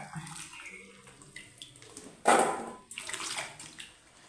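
Breadfruit pieces are washed in water for a curry: soft splashing and swishing from the vessel, quiet overall, with a louder pour or slosh midway and lighter water movement after it, no talk.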